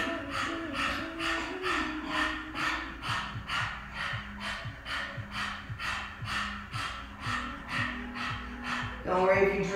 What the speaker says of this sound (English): Tongue is out as much as I can, panting like a dog.